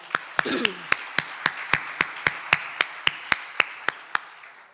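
An audience at a mayoral bursary handover claps for the parents in a steady, evenly spaced rhythm of about fifteen sharp beats, like a slow unison clap. A voice is heard briefly at the start.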